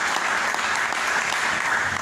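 A church congregation claps together in sustained, dense applause that stays loud and even for about two seconds, with no speech rising above it.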